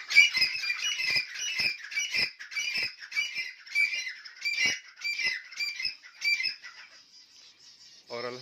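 Zebra finches in an indoor breeding setup with nests, sending out a rapid series of nasal, squeaky calls, close and fairly loud with brief pauses, and no people talking.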